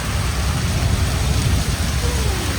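Heavy monsoon downpour in Bombay, a dense, loud, constant hiss of rain hammering surfaces with low rumbling underneath, steady throughout with no voices.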